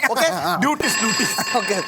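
A telephone ringing, apparently imitated by a voice in a Malayalam mimicry comedy sketch: a run of warbling, wavering ring-like tones that repeat in quick bursts, close and fairly loud.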